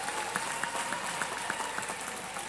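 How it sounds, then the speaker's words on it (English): An audience at a World Mental Health Day event gives a short round of applause, a fairly quiet, even patter of many hands with a few sharper claps standing out. "A round of applause."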